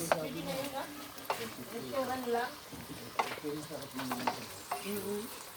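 Pinakbet vegetables with boiled pork sizzle in a frying pan while a spoon stirs them in bursts, scraping and clattering over a steady hiss, as a person talks throughout.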